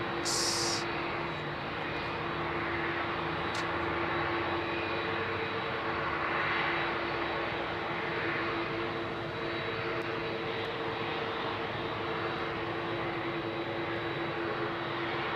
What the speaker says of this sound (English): Listen to this beautiful 767.